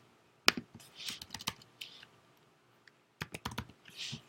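Close, crisp keystrokes on a computer keyboard come in quick clusters of clicks, with short quiet gaps between the bursts of typing.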